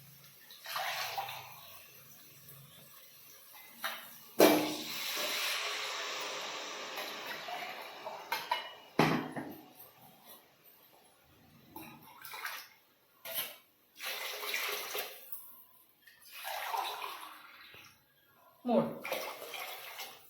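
Water poured into a cooking pot for pulao, arriving in several short splashing bursts separated by pauses, close and fairly quiet, with a person talking in between.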